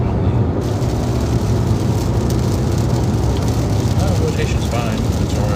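Heavy rain and hail drum on a storm-chasing car inside a supercell's hail core, a loud, dense, continuous clatter and hiss, with voices mixed in.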